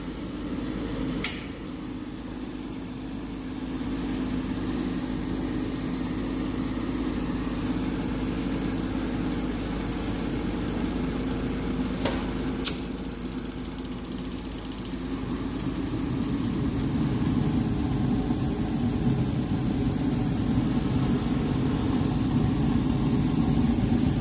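A rattly HVAC unit fires up and runs, a steady low rumbling drone with a few sharp clicks early on, holding constant and loud with no talking.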